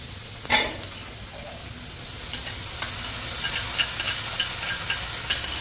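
Minced meat being stir-fried in a pan for a mutton khichuri: a faint, thin sizzle under a quiet room, with a sharp knock early on and a run of light spatula taps and scrapes toward the end, no voices.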